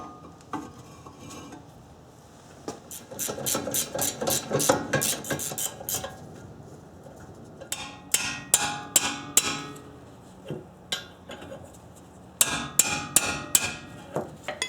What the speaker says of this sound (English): just give it a good whacking with the hammer and you'll be in good shape